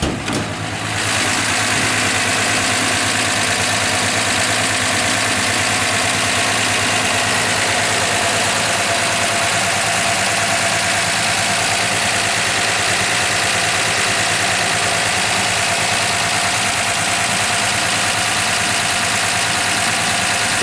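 A 1962 Dodge Dart 330 sedan's slant six engine idles steadily and evenly close by for the full stretch, a constant mid-toned hum with a faint ticking texture and no voices over it.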